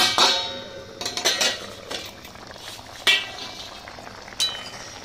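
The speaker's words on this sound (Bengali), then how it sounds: "এবার আমি ঢাকনাটা খুলে দেখবো কি অবস্থা আছে।" A lid comes off a pot of simmering shol (snakehead) fish curry, bringing a few sharp metallic clinks and clatters of pot and utensil over a soft bubbling hiss.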